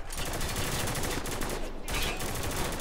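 Dense, rapid gunfire from Spec Ops: The Line rattles continuously, loud and close, with bursts overlapping in a steady barrage typical of game combat.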